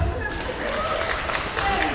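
An audience at a national seminar claps together in a dense, steady wash of applause that fills the room evenly for a couple of seconds.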